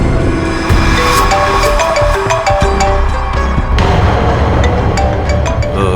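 A phone ringtone plays a stepped electronic melody of short, repeating tones over a steady background hum, with no one speaking.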